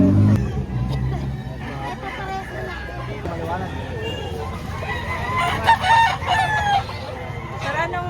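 Roosters crow repeatedly at a busy chicken market in Lipa, Batangas, with several overlapping calls from nearby and farther off, set against a constant murmur of crowd chatter and people talking.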